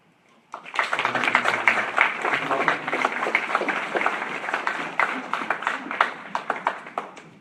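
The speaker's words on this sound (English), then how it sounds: "Another round of applause, please." Audience applause breaks out after a speech at a political discussion event, a dense burst of many hands clapping that starts abruptly and holds steady for several seconds, with a few louder individual claps standing out near the end.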